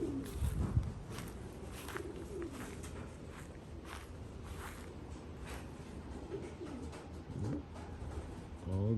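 Racing homing pigeons cooing at a loft, soft repeated coos mixed with faint shuffling and footsteps, moderately close and steady throughout, with no one speaking.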